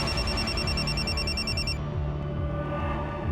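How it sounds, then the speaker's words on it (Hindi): A telephone rings in an indoor scene from a police crime drama, a rapid electronic trill pulsing loudly for under two seconds before cutting off, leaving a dense background hum. "सर वो रूपाली जी के असिस्टेंट तुषार का फ़ोन था।"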